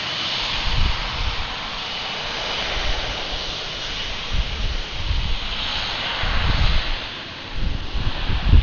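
An airliner landing at Atlanta airport, its jet roar a broad steady rumble that swells and fades over several seconds, heard from a distance outdoors with some wind noise.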